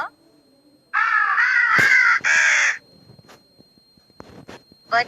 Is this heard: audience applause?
no